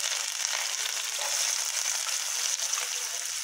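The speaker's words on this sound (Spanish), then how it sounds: "Ven el aceite que está caliente. Fuego medio para caramelizar la cebolla." Onion frying in hot oil over medium heat to caramelize, a steady close-up hiss of sizzling with faint bubbling, no talking.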